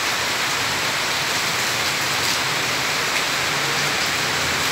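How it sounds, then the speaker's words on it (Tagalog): Heavy afternoon rain pouring down in a steady, dense hiss with drops pattering on surfaces, continuous and fairly loud with no talk. "Pagka parang tuwing hapon na talaga eh, umuulan eh."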